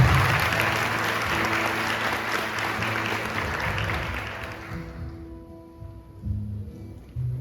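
Worshippers at a church service clap hard and steadily for several seconds before the applause thins out and stops, leaving a quieter room with faint low sounds.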